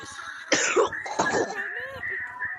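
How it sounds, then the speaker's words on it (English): A person coughs twice in quick succession, close and fairly loud, with some throat clearing mixed in and a steady background hum, during a Gorilla Tag game session. "sorry, I got a cough."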